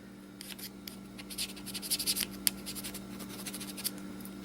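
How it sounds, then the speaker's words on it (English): Aluminum from a broken laptop being scratched with a tool: a series of soft, close, dry scraping strokes that build toward the middle, over a faint steady hum, with no talking. "Scratch it up and it's all nice shiny aluminum"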